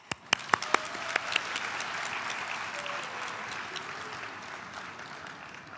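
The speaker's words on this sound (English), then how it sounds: "Please let us all give them a big applause." An audience at a college graduation ceremony applauds the graduates, opening with a few sharp close claps before swelling into sustained crowd clapping that gradually fades.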